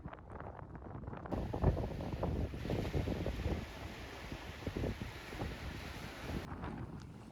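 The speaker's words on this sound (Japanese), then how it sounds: "風が強いです。" Strong wind blusters across the beach at Shonan, buffeting the microphone in steady rumbling gusts with a faint hiss of surf beneath, no voices heard.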